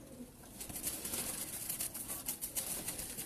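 Pigeons of good breed cooing and rustling nearby, soft repeated coos and light fluttering over a faint background.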